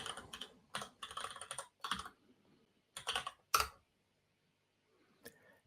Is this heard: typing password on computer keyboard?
yes